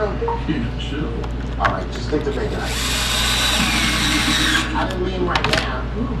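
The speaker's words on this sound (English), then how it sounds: "Tighten the bolt up." A power tool whirs steadily for about two seconds while tightening a bolt on a Traxxas X-Maxx RC truck, close and loud, with brief handling clicks around it and speech in the background.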